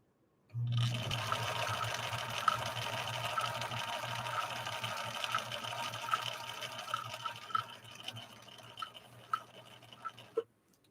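Husqvarna Viking 6020 sewing machine running a straight stitch, a steady close mechanical whir with a low hum and faint rhythmic ticking that holds for about ten seconds and then stops.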